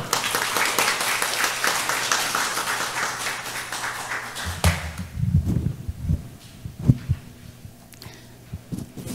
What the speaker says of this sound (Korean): 여러분의 큰 박수로 모시도록 하겠습니다